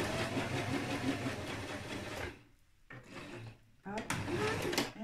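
Sewing machine stitching pinned fabric along a seam for a jumpsuit, a steady continuous mechanical whir that runs loud for a couple of seconds, drops out briefly, then resumes near the end.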